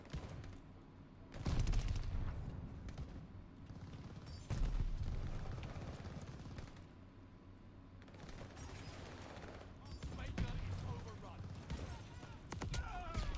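Bursts of automatic gunfire in a Call of Duty Vanguard multiplayer match, with heavy volleys around the start, middle and near the end over a constant busy game soundscape.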